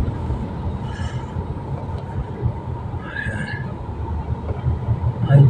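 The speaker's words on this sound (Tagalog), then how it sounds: "Ayan, MRT yan pala." MRT train passing on an elevated line near a skyway in the Philippines, a low continuous rumble of rolling rail traffic with occasional higher squeals, heard from a moving vehicle.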